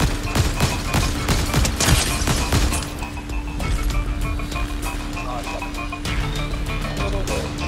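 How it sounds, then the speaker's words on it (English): Gunfire in a multiplayer shooting game, including a ray gun, crackles as rapid loud bursts early on, then fades to a steadier rumble while players talk over it. "Are they shooting at us?"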